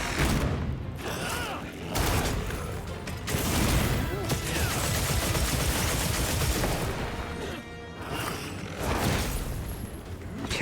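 A gunlance-style lance fires repeated shots in the Monster Hunter Wilds video game, with bursts of loud blasts and clanking mechanical impacts arriving in clusters and separated by brief gaps.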